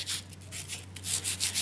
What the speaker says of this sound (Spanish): aquí lo que estoy haciendo es con la lija